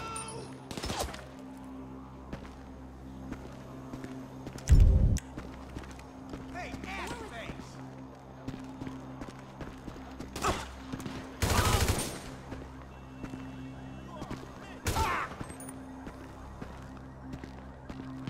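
Bursts of gunfire from GTA 5 erupt in a few loud, clustered volleys amid game action, with voices talking and shouting over a steady background hum.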